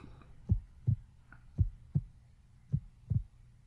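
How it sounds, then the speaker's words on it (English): A heartbeat from the video game Metroid Other M, six deep thumps falling in lub-dub pairs at an even, slow pace, close and muffled over a low hum. "Feel that heartbeat."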